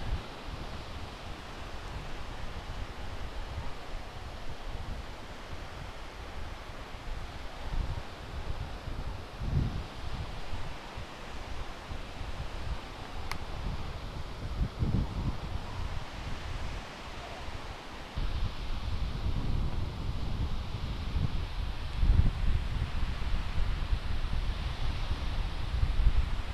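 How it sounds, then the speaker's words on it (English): Steady wind of about ten knots buffets the microphone outdoors during a model aircraft flight, a continuous low rushing roar with gusty surges and no voices. "Starting to struggle to make headway, you know. 10 knot of wind, 10 knots."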